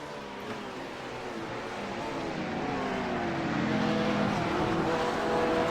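A McLaren GT3 race car powers out of a corner at Sebring in a racing game, its engine note climbing steadily in pitch and growing louder as it accelerates, with other car engines droning beneath.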